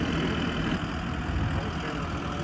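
A John Deere tractor engine idles steadily on a small hay farm, a continuous low rumble with a broad noisy texture held at even loudness throughout.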